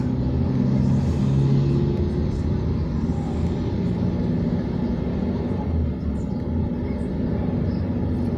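Truck on a road at night in Taguig, steady low rumbling engine and road noise, continuous and close, with no talk.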